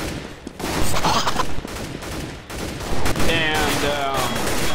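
Bursts of gunfire in the video game CS:GO, rapid overlapping shots that run almost continuously over a dense in-game background.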